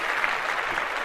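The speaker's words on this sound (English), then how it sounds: "let's clap that up" Applause sound effect dropped into a podcast, a brief, dense burst of many hands clapping at steady moderate volume with no voices on top.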